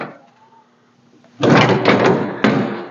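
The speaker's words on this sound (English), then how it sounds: "Open your door up." A car door swings open on a home-built door removal and install tool, giving a sudden loud clunk and rattle after a quiet stretch, close by, followed by a second sharp knock.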